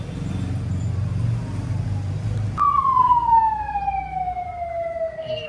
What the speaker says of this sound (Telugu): అదిగోండి మీకు సౌండ్ వినపడుతుందేమో, అది అంబులెన్స్ అయితే వస్తుంది ఇప్పుడు.